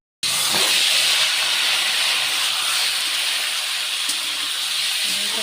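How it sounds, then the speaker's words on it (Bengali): Broiler chicken meat frying in a pan, a loud, steady hiss of hot oil that starts abruptly and holds an even roar throughout, with no voices. "এখন মাংসটা ভেজে নেই অল্প।"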